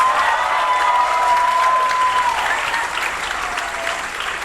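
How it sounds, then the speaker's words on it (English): Loud, sustained applause from a school concert audience cheering 5th grade band students, a thick continuous wash of clapping with a brief whistle-like tone partway through. "big, giant round of applause for our 5th graders"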